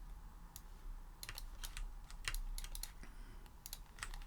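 Computer keyboard keys tapped in quick irregular bursts while working shortcuts in Illustrator, crisp close clicks over a quiet room hum, with no talking.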